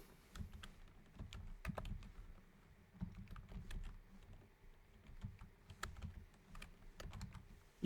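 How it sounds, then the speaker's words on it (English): Keys clatter in quick irregular bursts as someone types into a web page on a computer keyboard, close and moderately loud, with short pauses between words and no talking. "So what I will do next is to type"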